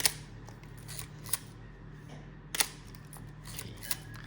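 Shutter of a Pentax ME Super film SLR firing, four crisp mechanical clicks spaced a second or so apart, close and fairly quiet over a low room hum.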